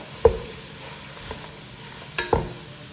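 Fried rice cooking over a high flame in a pan, with a low sizzle beneath two or three distinct scraping stirs of a spatula, close and fairly quiet.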